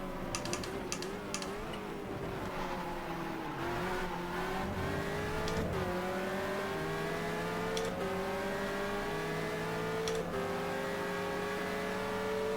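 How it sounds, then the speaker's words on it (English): Race car engines in the racing sim GTR2, including an open-cockpit Gibson LMP2 at a Bahrain WEC event, drone and climb in pitch through gear changes, steady and fairly loud, with faint ticking clicks layered on top. "there is a Gibson open cockpit LMP2 arriving"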